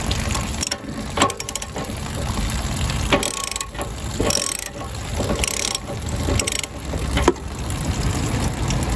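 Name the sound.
ratchet removing RV water heater anode rod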